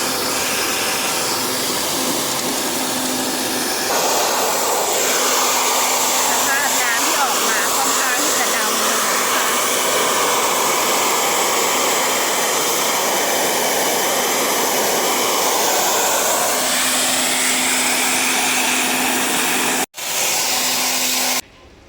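High-pressure spray-washing of the air-conditioning parts of a Mitsubishi Pajero Sport 2.5 with 108,217 km, a loud, continuous hissing rush of water that shifts in tone and stops abruptly near the end.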